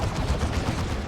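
A lascannon fires in the video game Warhammer 40,000: Dawn of War 2 during a 3v3 battle against a Chaos invasion. A dense, continuous roar of blasting fills the whole moment, loud and heavy, with no talk.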